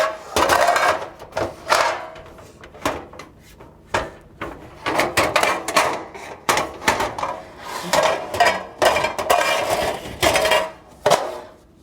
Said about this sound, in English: I do a lot of clanging in the kitchen, as you can hear.